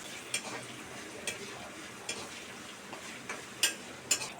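Masala being stirred in oil in a pan for a chicken curry, with soft scraping strokes and light sizzling ticks recurring at a loose, irregular rhythm, close and fairly quiet, with no talking.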